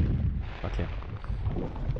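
Machine gun in the retro shooter Exhumed (Powerslave) firing in a dense, rapid stream of low, thudding bursts, loud and continuous.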